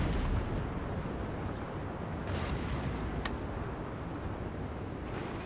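Naval cannons fire from a warship in Napoleon Total War, a low, continuous booming rumble with a few sharp cracks of shots scattered through the middle, fairly faint overall.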